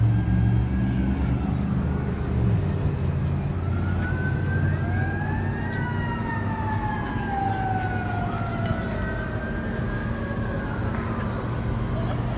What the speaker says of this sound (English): Got some sirens come by.